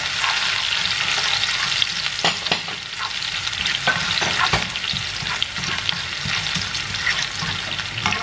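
Eggs fry in a pan for a Thai home meal, a steady crackling sizzle close up with scattered sharp pops and spatters throughout, no voices.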